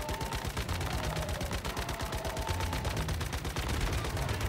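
Dense, rapid automatic gunfire from the survival shooter game Once Human during a bear hunt, a continuous loud rattle of shots filling the whole stretch with no talk over it.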